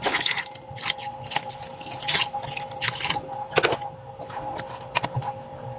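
Slightly warm water poured over a freshly caught live fish, heard as close, irregular splashing and dripping with a few sharper spatters, fairly quiet and alone.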